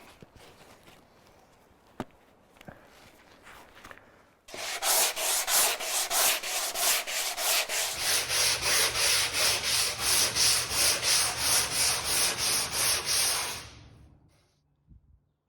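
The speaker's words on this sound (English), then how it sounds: "So I'm going to continue to sand" An epoxy-fiberglassed boat hull is sanded with a power sander, a close, loud, steady rasp with a pulsing rhythm for about nine seconds, preceded by quieter handling knocks and followed by the tool winding down.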